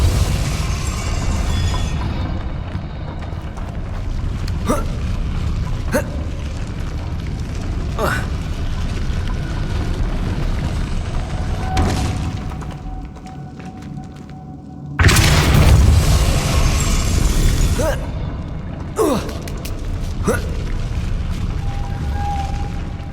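Depulso force-push spell effects in the Hogwarts Legacy video game: deep booming bursts with rumbling tails, including one loud blast partway through, set over continuous game ambience.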